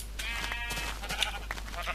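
A Minecraft sheep bleats in a short, wavering, nasal cry over a constant low hum, with no talking.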